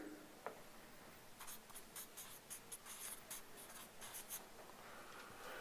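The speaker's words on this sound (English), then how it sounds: "I'll say that again slowly so you can write it down" Pen scratching on paper during note-taking at a talk, a soft, close run of quick strokes and short scribbles, faint and steady with no voices.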